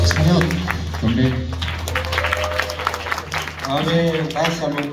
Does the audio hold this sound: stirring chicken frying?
no